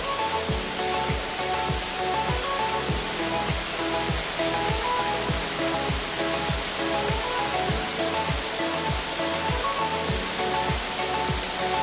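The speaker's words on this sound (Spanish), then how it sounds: "Y conozcamos esta maravilla, ¿eh? La cascada de la niña." The Cascada de la Niña waterfall on the Pita river near Sangolquí, Ecuador, gives off a loud, unbroken rush of falling water, with faint regular thumps beneath the constant roar.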